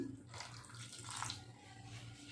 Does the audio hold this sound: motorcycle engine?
no